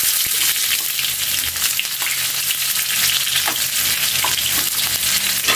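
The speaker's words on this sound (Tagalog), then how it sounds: "ipa-fried muna natin yung sibuyas at nagpapainit na rin kami ng mantika Kaylee." Sliced onions fry in hot oil with a continuous bright sizzle and crackle, and the scrape of stirring comes and goes. The pan is close and there is no talk.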